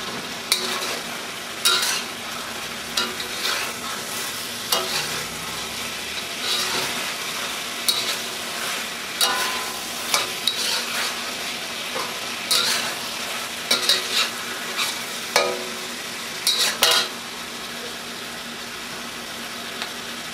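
Mushrooms and garlic fry hard in a hot wok. A loud, continuous sizzle runs throughout, broken by repeated scraping and clanking strokes of a metal spatula as the food is stirred and tossed. No voices.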